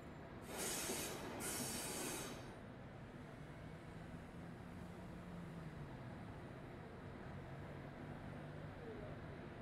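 A Metronom regional train and an ICE 1 passing outdoors, a continuous broadband rail rumble with a faint wheel squeal, plus a brief high hiss near the start; nothing else is clearly heard.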